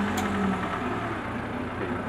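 A road vehicle rumbles away close by as a steady low engine drone that fades slightly over about two seconds, heard outdoors with nobody speaking.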